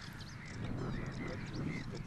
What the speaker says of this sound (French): Guidé par un chant conquérant, Félix cherche le phragmite des joncs.